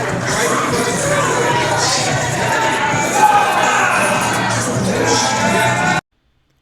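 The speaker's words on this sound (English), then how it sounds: "the crowd still sending Thomas Heim off. Yelling out, prime time, prime time" A pro wrestling crowd cheers and chants through the whole stretch, a dense roar of shouts and whoops with a louder surge midway, then cuts off abruptly.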